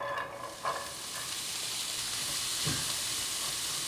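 Onions frying in olive oil in a pan, a steady broadband sizzle throughout with a couple of soft stirring clunks near the start and again toward the end, close and moderately quiet.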